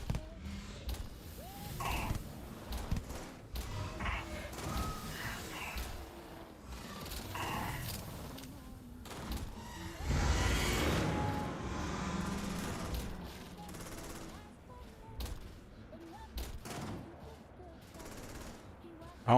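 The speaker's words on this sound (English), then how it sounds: "I'm out here playing out here with the big old pistol for no reason." Pistol gunfire in the video game Starfield, repeated sharp shots scattered among game noise and a roaring creature sound, fairly quiet overall, with a louder stretch midway.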